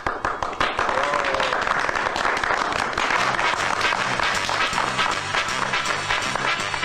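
Applause sound effect played during a podcast: dense, steady crowd clapping that fills the whole stretch at a fairly loud level, with a faint rhythmic musical pulse underneath in the second half.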